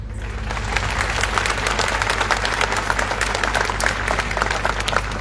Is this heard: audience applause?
yes